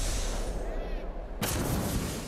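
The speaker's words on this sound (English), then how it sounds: "Grenade out! Grenade out!" A grenade explosion in the video game Apex Legends lands as a sudden loud boom partway through, followed by a broad rumbling tail, over a steady background of game noise.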